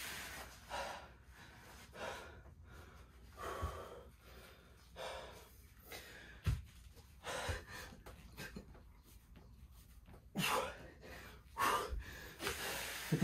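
Heavy, labored breaths and gasps from a person doing pushups come in irregular bursts, close and fairly faint, with quiet pauses between efforts.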